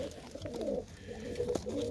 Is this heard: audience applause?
no